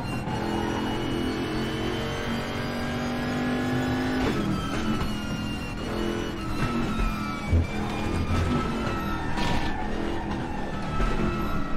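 A GTR3 Camaro race car engine in the RaceRoom sim racing game at Mount Panorama drones loudly and continuously, rising and falling in pitch through gear shifts and throttle changes, with no talk over it.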